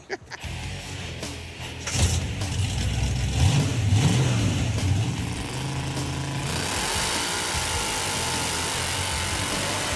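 A Hemi-powered 1975 AMC Gremlin on a Model A chassis doing donuts, the engine revving hard in rising and falling surges before settling into a loud sustained roar with a hiss of tire smoke, close by.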